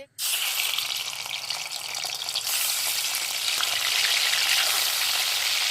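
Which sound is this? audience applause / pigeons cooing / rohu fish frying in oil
rohu fish frying in oil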